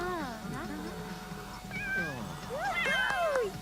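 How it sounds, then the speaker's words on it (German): Cat in The Sims 3 giving a series of rising and falling meows, several close together, moderately loud over faint background game sound. "schau, wie die Katze rumspringt"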